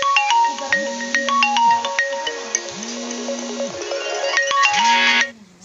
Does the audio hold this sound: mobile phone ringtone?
yes